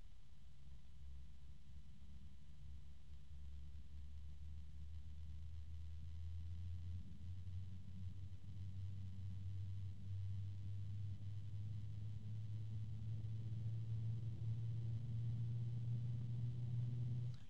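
Fractal Design Aspect 14 PWM fan spinning near a computer, a faint low steady hum with a rising tonal resonance building over time, alone without speech.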